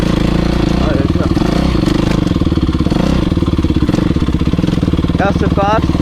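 A motocross bike riding a muddy track, its engine droning loud and close throughout with a steady pulsing rhythm and a few revving rises, while someone speaks briefly over it.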